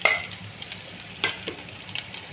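Grated ginger and garlic dropped into hot oil for chili chicken, giving a soft sizzle with a few sharp spatula scrapes and taps against the pan, close and without speech.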